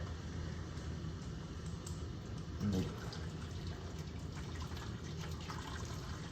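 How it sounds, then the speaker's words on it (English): Very hot water pours steadily into a baking dish to make a water bath for coffee crème brûlées. It is a continuous, even, moderately quiet splash and trickle with no pauses. "we're gonna fill it up with water"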